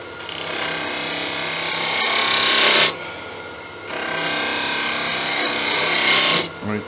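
A wooden magic wand spins on a lathe as a gouge cuts into it, two long, loud scraping hisses broken by a short pause, close and steady with no talk.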